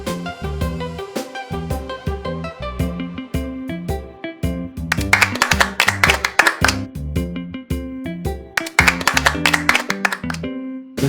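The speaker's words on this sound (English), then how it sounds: "The sound of clapping." Hands clap in two bursts of quick, sharp claps over bouncy background music, with steady tapping beats running through the whole stretch.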